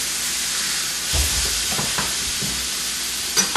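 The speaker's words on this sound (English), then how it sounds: "I flip it over, and we're going to sear it on the other side too." Meat sears in a hot pan after being flipped, a loud steady sizzle and hiss with a few soft thumps and scrapes as it settles, with no talking.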